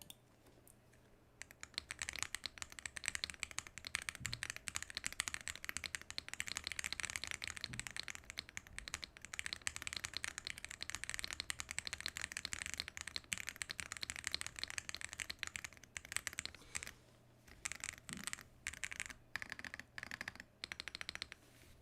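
Steady, continuous clatter of typing on a Wuching mechanical keyboard, close and moderately quiet, with rapid key presses running almost without pause and thinning out near the end.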